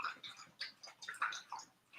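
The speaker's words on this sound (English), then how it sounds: "Hear him drinking." A dog drinks water sloppily, producing faint, irregular wet laps and clicks in a quick, uneven rhythm, close but quiet.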